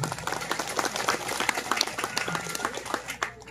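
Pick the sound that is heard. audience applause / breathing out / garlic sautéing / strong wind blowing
audience applause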